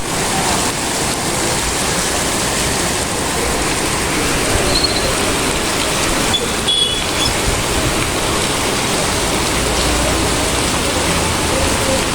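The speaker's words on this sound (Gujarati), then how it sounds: "તમે જોયું વરસાદ આવી આવ્યો છે આપણે રાજકોટમાં આજ વરસાદ થઈ ગયો અત્યારે ધીમો ધીમો ચાલુ જ છે" Steady rain falling in Rajkot, a dense, even hiss of drops that holds at the same moderate loudness throughout, close by and with no voices over it.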